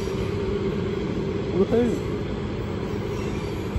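A light locomotive rumbles through Stafford station with a low, continuous engine drone, loud and close. A person cheers briefly over the noise.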